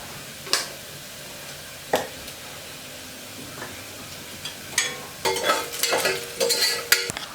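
Onions fry in a pressure cooker, a soft sizzle punctuated by scattered scraping stirs that grow busier and more frequent toward the end.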